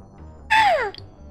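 A person imitates a hawk's cry while playing Final Fantasy XI: one loud, harsh, descending screech lasting under half a second, clear and close, with no other talk around it.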